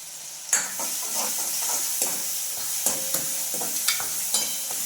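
Garlic paste and spices frying in a pan as tomato goes in, a steady close sizzle broken by several sharp stirring scrapes and knocks, with no voices.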